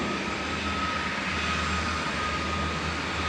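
An Airbus A320 passenger jet departing Manchester Airport, a steady broad engine roar with a faint high whine, held at constant loudness without a clear pass-by swell.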